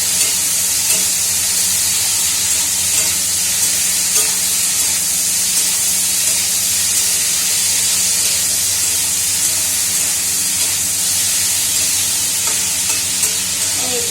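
Potatoes frying in a pan with green chilies, a loud steady close sizzle and hiss with faint stirring, no voices.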